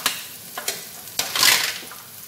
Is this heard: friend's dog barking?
no